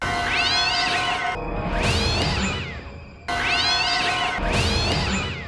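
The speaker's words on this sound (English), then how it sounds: "we get a cheap jump scare involving a cat" A cat lets out loud, harsh yowling screeches, two drawn-out cries repeated twice, close and piercing.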